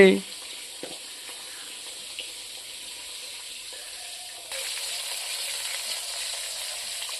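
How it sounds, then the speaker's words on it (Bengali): Pieces of pangas fish fry in hot mustard oil in a pan, giving a steady, even sizzle and hiss that grows slightly louder in its second half, with no voices over it. "মাছটা ভাজা হয়ে গেছে"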